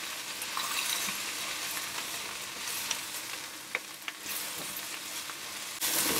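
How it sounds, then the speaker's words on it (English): Herbs cook in a pan with a steady, moderate sizzle and hiss, broken by a few light scraping clicks of stirring, and no voices. "stir those through. And just cook those for about a minute."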